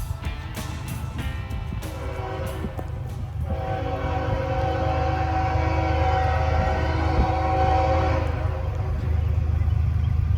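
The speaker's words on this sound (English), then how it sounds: "there the train comes finally" A freight train with distributed power units rolls over a bridge in the rain, a steady loud rumble building and holding with a horn-like tone sounding near the start, no talking.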